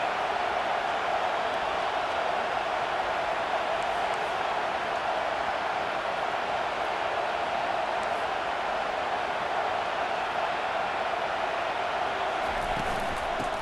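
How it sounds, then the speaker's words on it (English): Stadium crowd noise in EA Sports College Football 25 swelling on a third down, a steady, dense roar of fans behind the defense that holds loud and continuous throughout. "Decibels rising as the crowd gets behind this defense on 3rd down."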